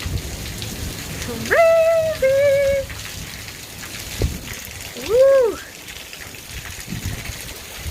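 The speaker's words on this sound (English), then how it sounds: "The rain is pouring down." Heavy rain pours down outdoors during a summer storm, a steady hiss throughout, broken by two short exclaiming voices.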